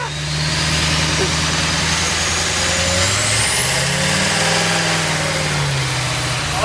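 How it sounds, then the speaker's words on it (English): A car engine runs loud and continuous through rolling burnouts, holding a steady drone with slow pitch swells as the revs rise and fall, with no pause in the noise. "Definitely does rolling burnouts."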